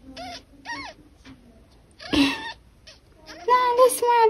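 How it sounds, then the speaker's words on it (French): Newborn kittens squabble over nursing, giving short high mewing cries in bursts, then a sharp scuffle and a louder cluster of overlapping squeals close by. "bagarre de chatons"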